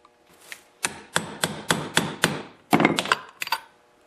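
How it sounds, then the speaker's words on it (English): A series of sharp metallic hammer strikes on a socket, driving a seal into a Honda snowblower auger gearbox, about nine evenly spaced blows, with a brief pause before a final quicker cluster, close up. "push down on the seal and possibly hammer it down a bit"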